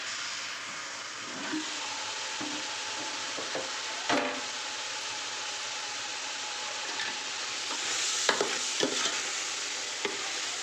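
Chicken pilaf with rice and ginger-garlic paste cooking in a pot, giving a continuous soft sizzle and bubbling hiss with occasional stirring clatters, close and steady.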